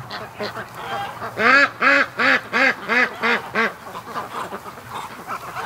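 A white duck quacks in a rapid run of about eight loud, evenly spaced calls, close by, preceded and followed by quieter background noise.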